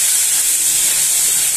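Garlic dropped into very hot oil in a pan for a chilli mushroom dish gives a loud, steady hiss of sizzling, continuous and close, with no voice over it.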